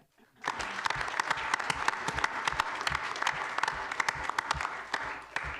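A room of people at a La Grange village board meeting applauds gymnastics coaches, sustained clapping rising suddenly and carrying steadily to the end, fairly dense and close.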